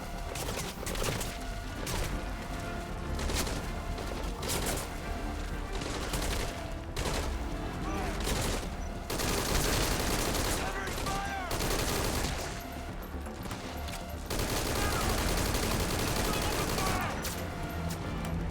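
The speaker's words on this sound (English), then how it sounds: "Open fire! Fire! Fire!" Dense, continuous gunfire in a video game battle, with overlapping bursts and rapid automatic fire rolling on loudly against a constant backdrop of noise.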